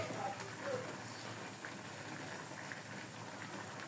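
A pot of fish curry bubbles and simmers at a gentle boil, a soft continuous burble with no talking.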